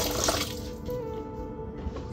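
Water sloshing and trickling inside the hull of a lightweight solar-powered prototype boat after a month of standing water, a close, continuous wet swirl with no talk.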